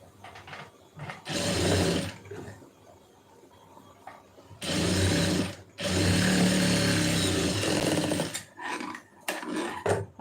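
A sewing machine stitches a folded blouse hem in several close bursts of buzzing, some short and some running a few seconds, with quiet pauses between them and no talking.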